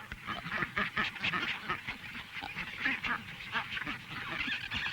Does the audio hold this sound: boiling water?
no